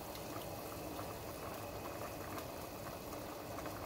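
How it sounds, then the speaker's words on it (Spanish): A pot of Mexican-style beef soup, caldo de res, boils with a faint, steady bubbling hiss, continuous and even throughout with no voices. "Ahorita ya nada más quede un hervor bien."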